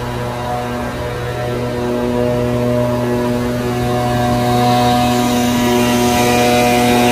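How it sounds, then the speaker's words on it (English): A leaf blower runs outdoors near a hotel, making a steady humming, tonal drone that grows slightly louder over the seconds. "Get ready for Mr. Leaf Blower."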